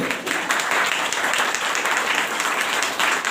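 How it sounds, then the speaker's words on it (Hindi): Audience applause greets guests on stage at a motivational speaking event, a steady dense wash of clapping sustained throughout at close range. "जोरदार आप हाथ ताली स्वागत करेंगे, उनके कानों तक पहुंचे"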